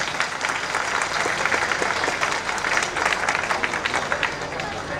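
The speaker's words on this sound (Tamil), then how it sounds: "ஒரு கைத்தட்டு கொடுங்க." An audience at a humorous speech event gives a sustained burst of dense applause, steady and loud throughout with some crowd murmur mixed in.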